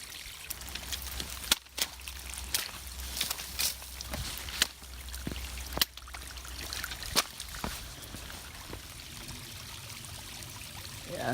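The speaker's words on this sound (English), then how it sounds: "You can see water flowing all the way down." Water trickles and flows down a rocky trail on a day hike along the Appalachian Trail, a faint continuous babble broken by sharp footstep and gear clicks close by.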